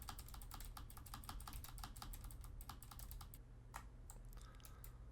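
Fast, irregular keystrokes clatter on a computer keyboard set up to play a game under Windows 98 in DOSBox Pure, a dense run of clicks that thins out toward the end over a low steady hum.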